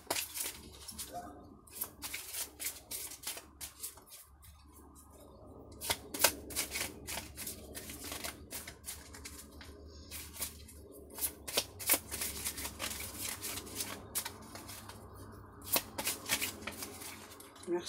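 Oracle cards are shuffled by hand in repeated crisp, riffling bursts, close and fairly quiet, with brief pauses between and some soft talking.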